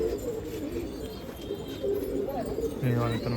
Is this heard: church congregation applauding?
no